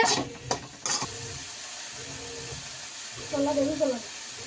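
Food being stirred in a pan while cooking broccoli chicken rice: short scraping and clattering strokes near the start, then a soft steady sizzle with a few more stirring bursts toward the end.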